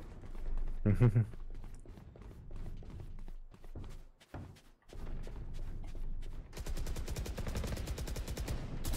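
Gunfire in the Valorant video game: a single loud shot early, scattered bursts, then a sustained rapid stream of automatic fire near the end, heard under players talking.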